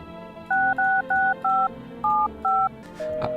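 An in-game phone number being dialed, seven clear touch-tone beeps in a quick even sequence, followed by a brief click and a faint tone at the end.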